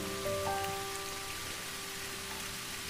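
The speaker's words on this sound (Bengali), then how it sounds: "বৃষ্টি শহরের এক ভিন্ন রূপ নিয়ে আসে" Rain falls steadily across Dhaka Cantonment, an unbroken wash of pattering water on surfaces with a faint tonal hum beneath, moderately loud and without voices.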